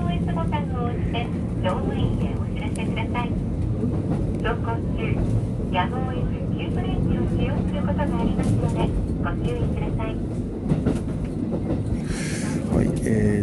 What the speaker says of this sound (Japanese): JR 布部駅から列車に乗ってます